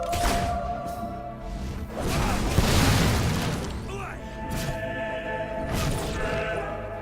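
Gunpowder barrels explode in the Fable III video game, heavy booming blasts and crashing debris swelling mid-clip over a continuous music bed, with shouted voices around them.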